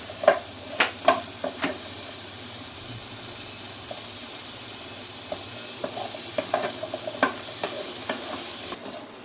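Okra and eggplant sizzle steadily in a hot pan while a utensil scrapes and taps now and then in irregular clusters, close and fairly loud.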